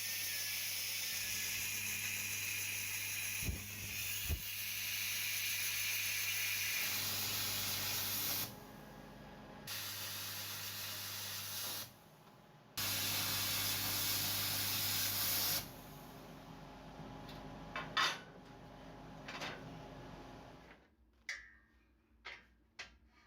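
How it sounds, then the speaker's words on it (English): A plasma cutter slices scrap metal into rectangular plates with a loud continuous hiss in several long bursts separated by pauses, ending with faint clicks and taps. "I employed the plasma cutter to cut another piece of scrap metal into 4 equally sized rectangular pieces"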